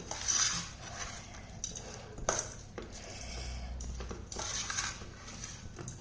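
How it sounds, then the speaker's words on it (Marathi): A spoon scrapes and clinks against a bowl while tempering is mixed into cooked rice for curd rice, with soft irregular stirring taps running close and steady throughout. "आता हे सर्व मिश्रण याच्यामध्ये फोडणीचं मिक्स करून घ्यायचं आहे"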